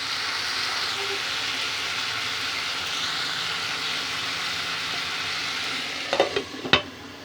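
Potatoes sizzle in a pan with oil, a steady soft frying hiss throughout, then a few sharp scrapes and clinks near the end as the pieces are stirred.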